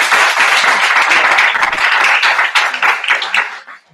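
An audience at a training session breaks into applause, dense, loud close clapping from many hands that keeps going for several seconds and then tapers off.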